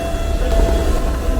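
A DART commuter train passes through a station in Dublin, its steady low rumble and wheel noise rolling continuously and fairly loud, with no voices over it.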